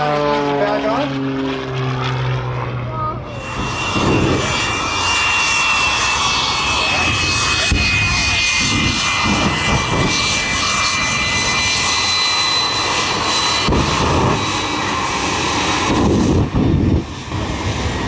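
Propeller-driven aerobatic airplane roaring through a roll and 3G pull at an air show, engine note sustained and loud with a rising, shifting pitch, a public-address announcer talking over it.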